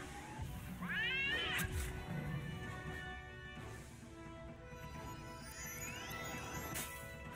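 A black cat in the Wizard101 video game gives two drawn-out, rising meows, one early and one near the end, over a soft sustained game backdrop.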